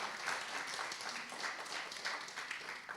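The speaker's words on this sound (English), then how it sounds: "Round of applause for the panel." An audience applauds a panel at a church event, with dense, steady clapping from a crowd lasting throughout at an even moderate level.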